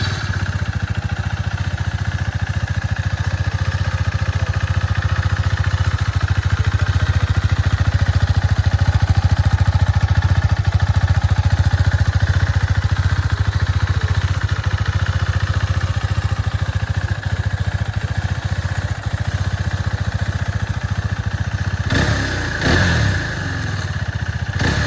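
A five- or six-year-old KTM RC390 BS4 motorcycle runs at a steady idle, its single-cylinder thrum loud and even throughout, with a brief clatter near the end.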